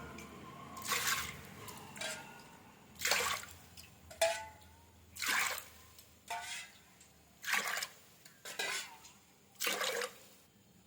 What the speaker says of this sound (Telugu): ఇప్పుడు కొంచెం నీళ్ళు పోసుకొని 2 సార్లు కడిగి వంపుకుందామండి.